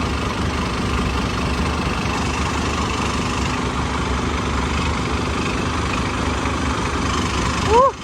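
A freshly fitted replacement engine idles smoothly and evenly, a steady close low rumble that holds unchanged for the whole stretch before a short bump at the end.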